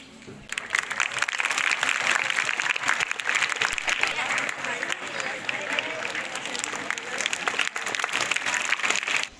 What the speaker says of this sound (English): Let us have a big round of applause for our judges.